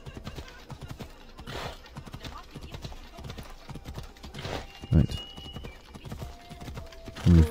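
Horse hooves clip-clop at a gallop in the video game Assassin's Creed Odyssey, a steady rhythmic beat of fairly close hoofbeats with a brief whinny and other game sounds mixed in.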